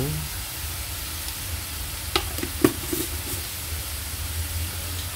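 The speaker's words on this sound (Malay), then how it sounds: "So kacau dan kacau dan terus mengacau." A steady sizzle of cendawan kukur mushroom sambal frying in a pan, with a spoon scraping and clicking against the pan a few times as it is stirred. The sound is close and continuous, and no one speaks.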